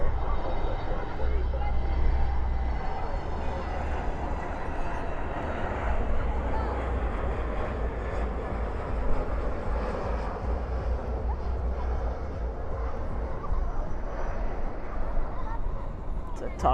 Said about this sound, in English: That's a Neo, you can just hear it.